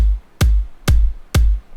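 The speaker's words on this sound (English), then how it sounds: "Altogether this kick sounds like this." Three punchy layered electronic kick drum hits land evenly spaced, each a deep thump with a crisp click on top, alone and loud.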